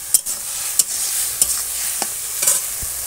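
Leafy greens (data shak) frying with mustard and chilli in a pan, a soft steady sizzle broken by several sharp spatula scrapes and taps, no talk.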